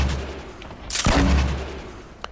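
A single loud gunshot blast from a video game firefight rings out sharply, then fades into a low rumbling tail, with a faint click near the end.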